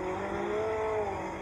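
Talbot Rallye 2 rallycross cars with 130 hp engines racing at a 1981 French championship round in Mayenne, a steady loud engine drone with a rising and falling pitch, as if cars pass close by.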